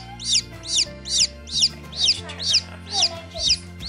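Newly hatched chicks peep in a regular series of about eight bright, high chirps, close by and fairly loud over a low steady hum.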